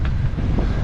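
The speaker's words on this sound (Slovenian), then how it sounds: "Koliko piha? Preveč, najhujše sidrišče na svetu." Strong wind blows across a sailing anchorage at Honiara in the Solomon Islands, a loud, continuous low rumble and buffeting on the microphone that lasts for the full short moment without voices.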